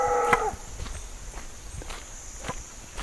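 A cow gives a short moo at the start, followed by scattered soft footsteps or hoof thuds over a quiet outdoor background.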